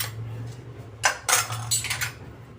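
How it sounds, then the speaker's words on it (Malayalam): Small brass pooja vessel parts set into a pressure cooker, giving a few distinct metallic clinks and clanks close by over a steady low hum. "അപ്പം നമുക്കിനി ഇത് കുക്കറിലേക്ക് ഈ ചെറിയ പാർട്സുകളെല്ലാം നമുക്ക് വെക്കാം"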